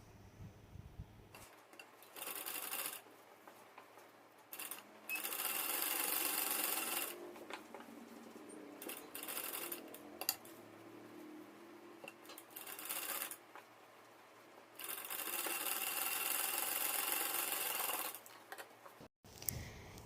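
A sewing machine stitches a seam on a lined suit, running in several sustained bursts of steady whirring with short pauses between runs, fairly close and alone.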